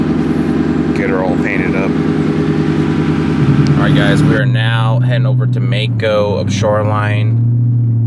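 A Lexus LS460 with muffler and resonator deleted drones with a low, steady exhaust rumble while driving, sitting under someone talking close to the microphone for most of the stretch.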